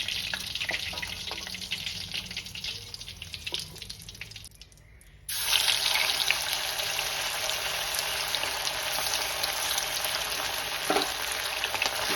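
Continuous crackling sizzle of curry leaves frying in hot oil, briefly dropping away midway before the spitting resumes loudly and steadily.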